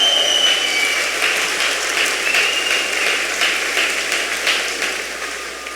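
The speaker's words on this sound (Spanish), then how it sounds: "Fuerte aplauso al Rey de Reyes." Church congregation applauding loudly in steady sustained clapping throughout, a dense wash of many hands with no voices.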